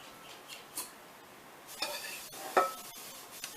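Sliced potatoes are scooped into a baking dish in a home kitchen, with soft scattered scrapes and light clinks of a utensil against the dish, quiet and irregular, with no voices.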